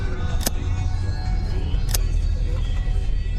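A car driving along a rough road that alternates between gravel and asphalt, giving a loud, constant rumble of tyres and engine from inside the vehicle, with a couple of brief sharp knocks.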